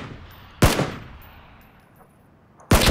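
Two loud, sharp gunshots in a shooter video game, spaced about two seconds apart, each a sudden crack that fades quickly, with only quiet background in between.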